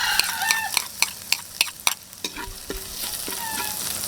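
Garlic sizzling in hot cooking oil in a pan for braised beef, a steady frying hiss punctuated by regular scraping strokes of a spatula stirring.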